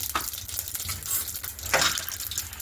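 Mustard and cumin seeds crackle and sizzle in hot oil, a close, lively frying hiss with a few sharper pops and a stir partway through, no voices.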